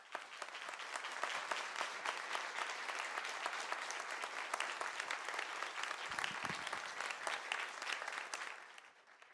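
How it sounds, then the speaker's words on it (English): Warm audience applause for a classical musician from the Norwegian Radio Orchestra at a business school research day, dense sustained clapping from a sizable crowd that swells, holds steadily, then fades out. "Please, a warm applause for Sissel."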